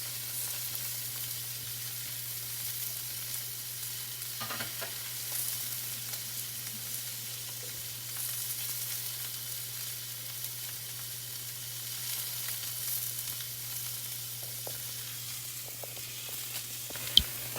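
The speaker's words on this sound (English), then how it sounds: "The minute you add a hot piece of protein, to your pan, you can see it kind of shrivel immediately." Protein sears in a hot pan, giving a steady, soft sizzling hiss that runs without a break for the whole stretch. A faint low hum sits underneath and a small click comes at the very end.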